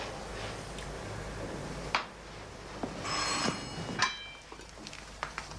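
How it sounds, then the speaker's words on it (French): A doorbell rings indoors in an apartment building, a short bright electric ring heard at moderate level against a quiet room. "Madame Rémy, on a sonné."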